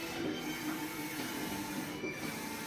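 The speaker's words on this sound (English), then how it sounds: "Today we are talking about this double head large format printer." A 1.8 m double-head eco solvent large format printer with Epson XP600 printheads runs steadily, producing a continuous mechanical whir and buzz with faint periodic carriage sweeps, close and alone without voices.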